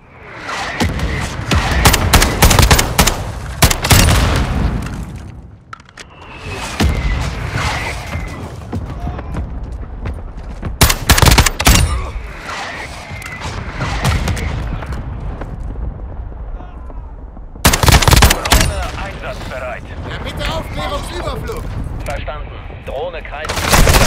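Allied turret gunfire in the Call of Duty: Modern Warfare 2 video game, loud bursts of rapid shots and heavy booms in repeated volleys, with game voices and battle noise between them.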